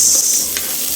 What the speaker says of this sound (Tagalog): Tapos yan, halo.